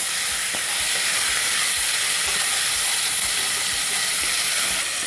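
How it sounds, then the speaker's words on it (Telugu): A cut tomato drops into a hot pan already holding ginger garlic paste for one-pot masala rice, setting off a loud, steady sizzling hiss that runs unbroken from start to finish. "ఇప్పుడు ఒక టమాటా కట్ చేశాను, ఆ టమాటా వేస్తున్నాను."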